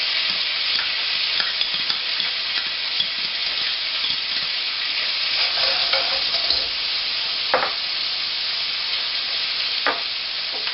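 Garlic and ginger sizzle in sesame oil, a close, steady frying hiss with occasional stirring clicks and scrapes in the pan.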